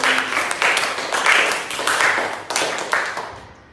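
A classroom of students applauds at the close of a lesson, bursts of dense clapping swelling and easing several times over a few seconds, fairly loud and close with no talk.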